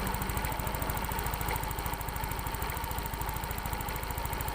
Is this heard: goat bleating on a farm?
no